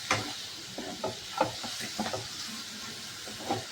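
Pulao rice with turmeric fries in a pan, giving a soft sizzle and hiss with a few quiet stirring scrapes and clinks spaced through.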